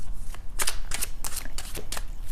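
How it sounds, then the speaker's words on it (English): Tarot cards are shuffled in a steady run of crisp riffling bursts, close and fairly loud, with no voices. "I am shuffling the cards and asking the angels to give us a specific answer for"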